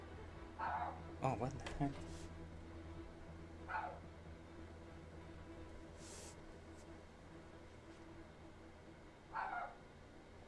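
A dog barks outdoors in a few short, faint yips spaced several seconds apart, under a voice and a low hum.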